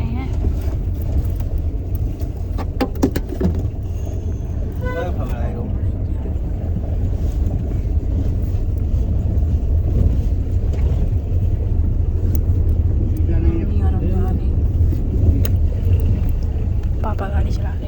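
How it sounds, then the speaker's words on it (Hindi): A car driving along the road, heard from inside the cabin, makes a continuous low rumble and road roar throughout. Voices talk over it. "पापा गाड़ी चला रहे।"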